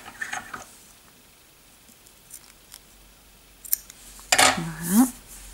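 Scissors snip through crochet yarn in a couple of quick, close cuts near the end, after a quiet stretch with faint handling noises.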